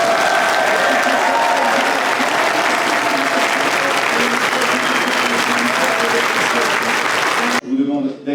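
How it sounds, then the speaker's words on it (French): An audience welcoming a speaker applauds loudly and continuously, a thick wash of clapping with a few voices and whoops under it, cut off abruptly near the end. "vous pouvez déjà commencer à l'applaudir"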